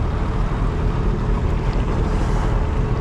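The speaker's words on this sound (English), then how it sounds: "So we'll just slow down a bit to let this red funnel ferry" A Red Funnel ferry passes a sailboat on open water, heard as a loud, steady broadband rush of engine and water blended with wind buffeting the microphone. The sound stays continuous and close throughout, with no speech.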